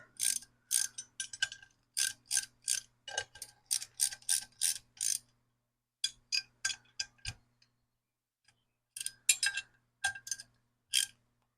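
A wrench ratchets on a steering wheel quick release during a belly tank racer cockpit build, sounding as crisp clicking bursts in quick rhythmic runs with short pauses between them.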